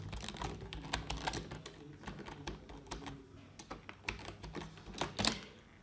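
A password being typed on a computer keyboard, quick irregular key clicks close by with a few louder presses near the end, no voices.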